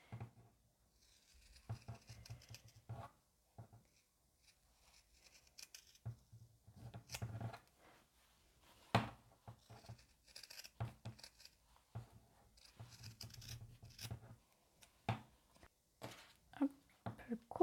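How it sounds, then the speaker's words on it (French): Scissors snip at the fabric corners of a zippered cloth pouch, a series of quiet, close crisp cuts spaced irregularly across a hushed room. "Au niveau des angles aussi, on peut venir couper."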